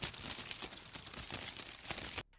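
Flapping bird wings as a sound effect, a dense run of rapid fluttering beats across about two seconds, fairly loud and even, ending abruptly.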